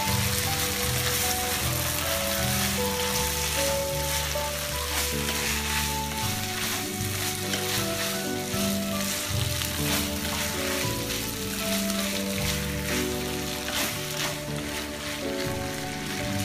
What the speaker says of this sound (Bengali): ম্যাকারনিটা চুলায় দিয়ে বেশিক্ষণ রাখতে হয় না, জাস্ট সবজির সাথে খুব ভালোভাবে মিশে গেলে নামিয়ে ফেলতাম।